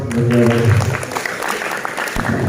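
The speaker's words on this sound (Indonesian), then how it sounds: "Oke, tepuk tangan dulu dong." Audience applause at a school extracurricular inauguration talk show, a short burst of many hands clapping in a hall with voices mixed in over it.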